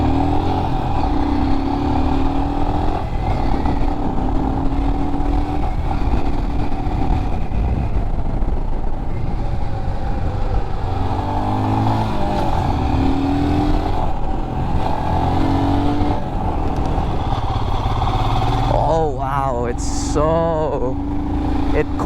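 A Royal Enfield Scram 411 motorcycle accelerates on a Philippine road, its engine note climbing through gear changes in rising sweeps, close and steady under wind noise, with a voice talking over it.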